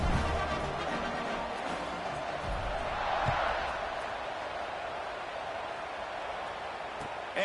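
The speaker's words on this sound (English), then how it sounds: "this crowd is buzzing after that last score" A football stadium crowd gives a broad, steady buzz of many voices at moderate distance, swelling slightly midway, with a commentator's voice over it.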